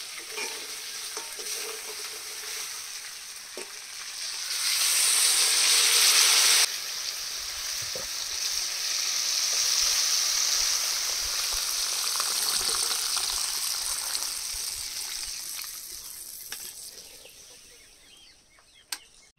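Water poured into a pan of browned duck meat curry, village style, sets off a loud steady sizzle and bubbling hiss that swells, then settles into a long even simmering hiss.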